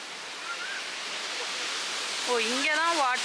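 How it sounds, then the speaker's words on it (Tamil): A waterfall in a Munnar river valley with low water flow gives a steady, soft rushing hiss throughout, and a voice speaks over it near the end. "ஸோ பார்த்தீங்கன்னா இதுதான் அந்த வாட்டர்ஃபால்."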